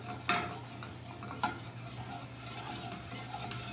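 Butter browns into beurre noisette in a pan kept moving, a soft steady sizzle with a faint background hum and two sharp metallic clinks of the pan, heard close with no talking.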